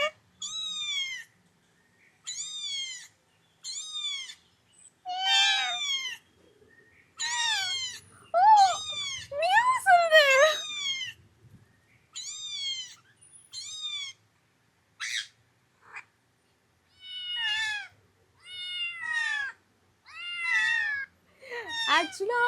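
A parrot in a pet shop imitates a cat's meow, giving a long series of clear, close meow-like calls in separate bursts separated by short silences, each rising and falling in pitch like a real cat.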